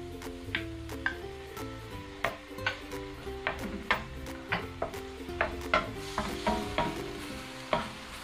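Garlic and ginger sauté in hot cooking oil for chicken biryani, giving a steady sizzle broken by regular, close spatula stirs and scrapes against the pan.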